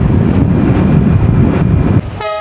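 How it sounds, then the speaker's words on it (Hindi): A train rolls past on a highway stretch in Vietnam during a motorbike road trip, a loud steady rumble for two seconds that then drops off, followed by a brief tonal horn-like toot. "ट्रेन जा रही है।"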